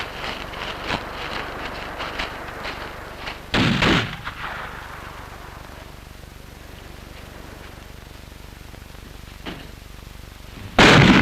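Gunshots in a 1959 film ring out as a few sharp cracks, scattered across a windy outdoor background, with two louder, closer bursts standing out from fainter distant pops.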